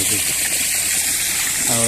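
Water sprays and gushes across a paddy field in a continuous loud hiss, with a voice briefly audible over the rush.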